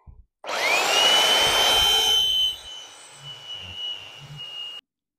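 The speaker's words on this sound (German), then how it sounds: "Dann schleife ich mal kurz drüber." A power sander whirs up on a wooden board, a loud high steady whine for about two seconds, then drops to a quieter lower grinding before cutting off.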